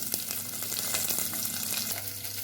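Shallots and curry leaves fry in hot oil with turmeric in a South Indian home kitchen, giving a steady, dense sizzle that continues without a break and with no voices.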